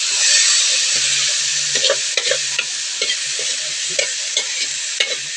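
Food being stirred in a sizzling pan while making adobo with coconut milk, a loud constant frying hiss punctuated by rhythmic scrapes and taps of a spoon against the pan.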